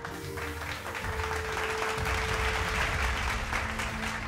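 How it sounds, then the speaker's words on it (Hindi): At an awards event in Marwar, an audience gives loud, sustained applause for a guest, a steady wash of clapping with a faint tonal hum underneath. "एक बार जोरदार तालियां।"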